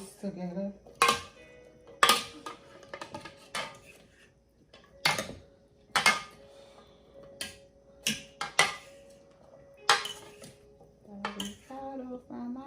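Avocado salad being tossed in a bowl, a run of sharp utensil clinks and scrapes against the dish coming in irregular bursts, fairly close, with no talking over them.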